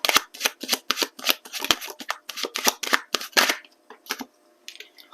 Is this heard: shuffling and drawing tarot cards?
yes